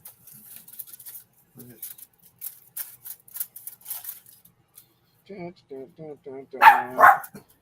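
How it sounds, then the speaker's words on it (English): A dog barks in a short burst of several yaps near the end, after stretches of quiet and scattered faint sounds, close and fairly loud. "That other dog you're barking at will eat you."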